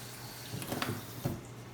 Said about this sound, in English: I'm going to just go ahead and strain the almonds, and then I'm going to give them a quick rinse